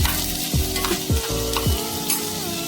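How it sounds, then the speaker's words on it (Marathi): Onion, green chilli and vegetable mixture roasting in a pan for a Konkani monsoon leafy-green dish, a loud continuous sizzle broken by three rhythmic scraping stirs of a spatula, close up and with no voices. "आता त्याला सुंदर असं भाजून घ्यायचं सर्व मिश्रण आहे"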